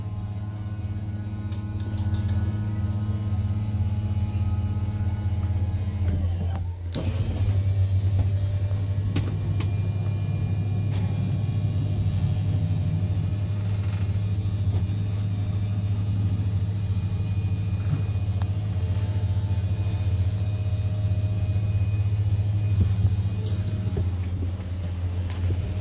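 Steady low electric motor hum from the slide-out on a Heartland Mallard M335 travel trailer, running continuously with a slight shift in tone early on, no talk over it.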